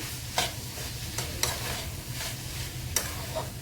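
Boiled potato is stirred into spices in a sizzling pan for masala pav, with a soft steady fry underneath and several distinct scraping strokes of a spoon at irregular intervals.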